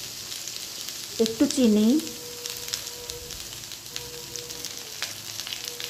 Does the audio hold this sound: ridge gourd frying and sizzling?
yes